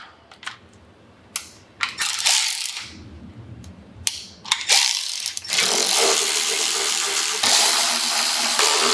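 Ratchet clicks in quick bursts as bolts are tightened on a Tour-Pak relocation bracket during a 2026 Harley-Davidson install. Dense, loud mechanical ratcheting runs steadily through the second half with no talk.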